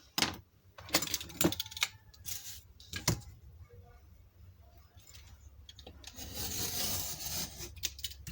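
A blade scores a cake board and an extra strip is torn and pulled away, heard as close, sharp raspy scrapes and crackling rips with a few clicks and pauses and no talking.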